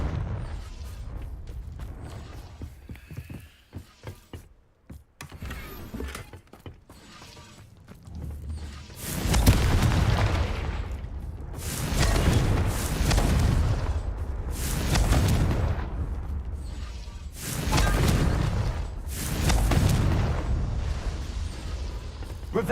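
Repeated booming blasts from the Confringo fire spell in Hogwarts Legacy, several loud explosive bursts arriving every few seconds over a rumbling game soundscape.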